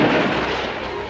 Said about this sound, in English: Launch sonar missile!